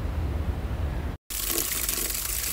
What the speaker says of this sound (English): So I'm getting some clean water for Matilda and her friends too